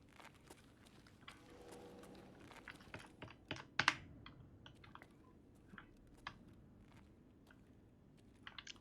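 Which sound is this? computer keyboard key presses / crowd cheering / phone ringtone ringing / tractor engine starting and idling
computer keyboard key presses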